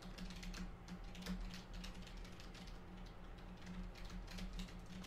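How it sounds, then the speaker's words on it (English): Soft, steady tapping of keys on a computer keyboard, picked up by a Blue Yeti microphone, continuous and close, with a low background hum underneath. "And you'd hear me punching the keys."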